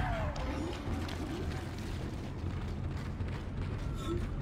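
A large mechanical door grinds and creaks open in the Dead Space video game, a steady rumbling mechanism sound with low booming undertones, fairly loud and continuous, with a voice talking over it.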